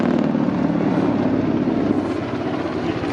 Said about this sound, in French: on voit que l'exceptionnel peut être atteint avec cet hélicoptère incroyable